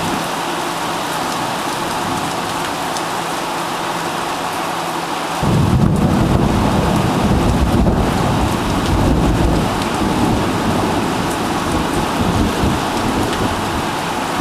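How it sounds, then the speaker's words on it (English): Heavy thunderstorm with steady loud rain, and a deep rumble of thunder that rolls in partway through and swells the downpour to a heavier roar for the rest of the stretch. "There's a lot of lightning."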